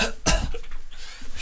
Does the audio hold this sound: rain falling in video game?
no